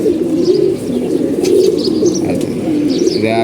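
A racing pigeon, recently treated back to health, coos in a steady, continuous low rolling burble, close and fairly loud, with a few faint chirps above and no talk.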